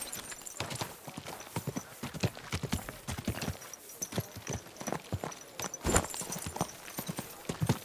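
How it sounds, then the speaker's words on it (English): A horse's hooves clip-clop in an uneven walking rhythm, each sharp knock distinct and fairly close, with faint background noise between steps. "My, what a beautiful horse."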